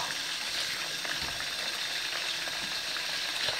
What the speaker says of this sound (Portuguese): E aí ficou com água e tá estourando já, ó.